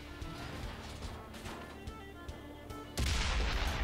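A T-34-3 tank's main gun fires in a tank video game as one sudden, loud, booming blast near the end, rising out of a steady engine rumble and lingering as a thick roar.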